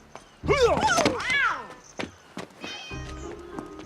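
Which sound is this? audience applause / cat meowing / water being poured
cat meowing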